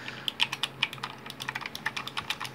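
Rapid, uneven clicking of keys typed on a loud mechanical RGB gaming keyboard, a Silvercrest model, with sharp, close keystrokes in an irregular rhythm and no talking.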